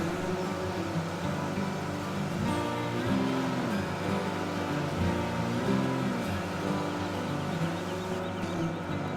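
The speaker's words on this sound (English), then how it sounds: "apologies for the noise while I wash down the truck here" Washing down a log-hauling farm truck produces a steady mechanical drone with a low hum and shifting tones, moderately loud and continuous, with no voices.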